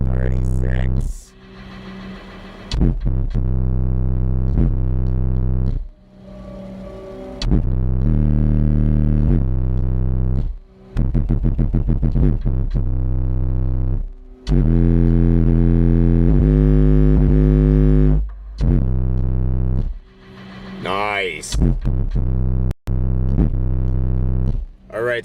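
A WLLDSE HST12 car subwoofer driven by an NVX XAD13 amplifier pumps very loud, deep bass tones in long sustained blasts with short gaps, the heavy rumble filling the car, with people talking in between.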